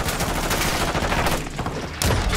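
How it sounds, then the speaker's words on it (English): Rapid bursts of gunfire in an online shooter video game, dense overlapping shots filling the whole stretch, loud and close, with a sharp louder volley near the end and no talking. "At that point, I'm going to have to shoot back, you know?"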